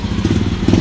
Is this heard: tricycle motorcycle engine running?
yes